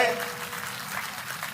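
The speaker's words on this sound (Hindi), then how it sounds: "जोरदार ताली बजाओ यशस्वी हमारे अध्यक्ष श्रीमान शुभंकर अध्यक्ष विष्णुदत्त शर्मा जी के लिए" A crowd at a BJP party gathering claps together in a dense, steady patter for state president Vishnudutt Sharma, with a voice faintly audible beneath the applause.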